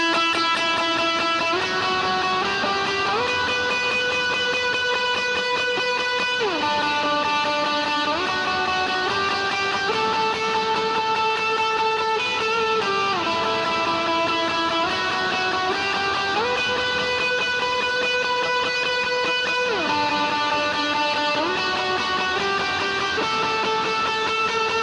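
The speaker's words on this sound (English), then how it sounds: "it's the same exact melody line, just more drive, more aggressive." An electric guitar with heavy overdrive plays a sustained, singing lead melody for a worship song. Long held notes step up and down in a loud, continuous line with effects and no speech.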